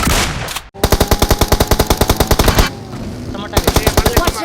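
Rapid automatic gunfire in a video game, two loud bursts of evenly spaced shots separated by a short pause, with a voice faintly audible underneath.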